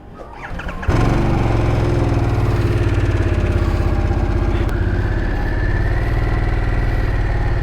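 A 2023 Harley-Davidson Sportster S engine catches and settles into a loud, steady, close rumble with a throbbing low pulse that holds through the ride, no talking over it.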